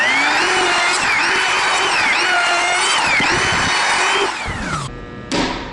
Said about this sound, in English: Last thing to do is to router off the top edge here with that 1/4 inch round over bit.